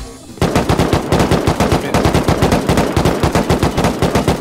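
Sustained automatic gunfire in the video game Rust, a rapid, evenly spaced stream of loud close shots that starts abruptly and continues without a break.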